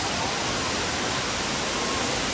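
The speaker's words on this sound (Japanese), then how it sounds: "季節によって水量が全然違うようで、この水量の滝を見られたのはラッキーでした。" A waterfall in Thailand with heavy seasonal flow roars in a dense, steady wash of rushing water that stays constant throughout, without voices.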